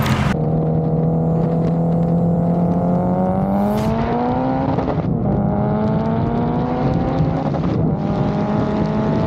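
A Mitsubishi Evo 8 with a 2.4L stroker engine accelerates hard on a racetrack, its loud, close engine note rising steadily in pitch, with a shift partway through and continued pulling, no talk.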